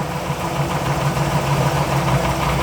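Car engine with a Holley carburetor running too rich, idling steadily up close, a constant low rumble with a slight uneven throb and no voices.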